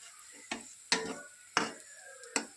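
Paratha frying in a little oil in a kadai as it puffs up, giving a quiet sizzle broken by four sharp crackling bursts spaced unevenly, with no voices.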